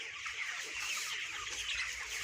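A sick broiler chicken clucks softly and steadily for a couple of seconds, with a faint farmyard hush behind it and no voices.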